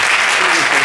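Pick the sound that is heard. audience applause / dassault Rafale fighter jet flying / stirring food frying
audience applause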